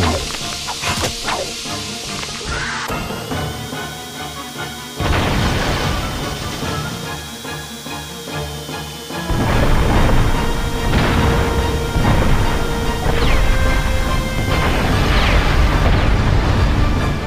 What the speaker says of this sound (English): This whole place is about to explode.